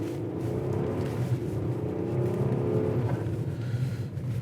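A 2021 Nissan Murano AWD accelerates on snow, its engine humming steadily and rising slightly in pitch. The drone is close and continuous with a faint road rumble beneath and no voices.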